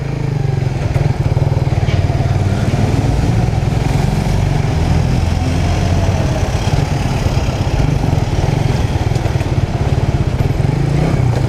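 Raider R150 motorcycle being ridden on a long road trip, its engine droning steadily and loud throughout with continuous wind rush, no pauses or talk.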